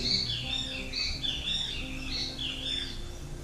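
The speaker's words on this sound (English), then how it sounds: "you hear the birds chirping." Birds chirp repeatedly in high, bright bursts against a quiet background, light and somewhat distant.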